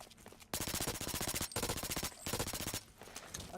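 SMG hip fire in the video game Blacklight Retribution comes as loud, rapid automatic bursts of close gunshots, with three long strings split by short pauses and no talk.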